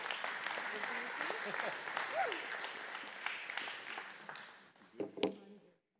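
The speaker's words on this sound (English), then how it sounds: "All right, let's give Peggy and Danny another round of applause." A church audience applauds, a fairly faint wash of many hands clapping from across the room that fades out, with a few louder nearby sounds and a voice near the end.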